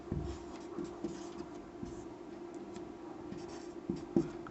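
A pen scratches steadily on paper while working a class 10 mensuration maths problem, with short repeated strokes and taps close up and no talk.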